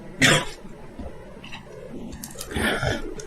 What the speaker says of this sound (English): And I'm going to cough 1 second.